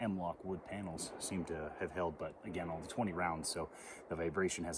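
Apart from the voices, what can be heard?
No everyday noise stands out behind the speech.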